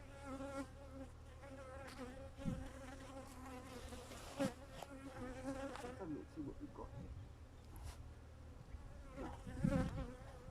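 Bees buzz around an open hive during a beginners' beekeeping session, a continuous droning hum with individual insects swelling close by, while a person speaks briefly over it.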